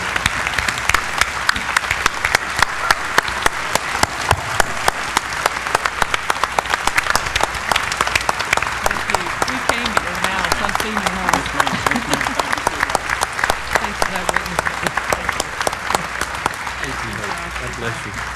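A conference crowd applauds disaster-response volunteers with loud, dense, sustained clapping that carries on for nearly twenty seconds, with voices murmuring faintly underneath.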